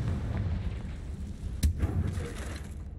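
A single sharp blast from a Confringo curse bursts out in Hogwarts Legacy, brief and punchy against a low rumbling background, with a softer echo trailing after it.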